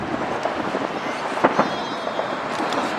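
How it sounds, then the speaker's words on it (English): Distant fireworks on the Las Vegas Strip on the Fourth of July, a few soft pops and bursts over a murmuring outdoor crowd. "We have fireworks like every night"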